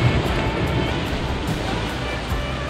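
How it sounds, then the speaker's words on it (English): Ocean waves wash onto a beach in a steady, continuous roar of surf. A light wind rustles underneath, and no voices are heard. "The beach is a bit quieter, not so windy. The waves are not as high."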